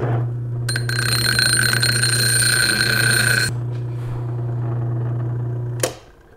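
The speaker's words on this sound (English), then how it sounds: "now we go hit that out on the bench grinder and see if it works as an oil pan bolt" Bench grinder grinding down a steel bolt to fit as an aluminum oil pan bolt on a Honda Pilot with a J35Z4 engine, a steady motor hum under a shrill tonal screech of metal on the wheel that stops partway, close and loud.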